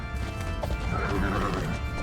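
A horse whinnies and its hooves clip-clop as a horse rider is trained in Age of Empires, a short burst of neighing over hoofbeats with a brief crash.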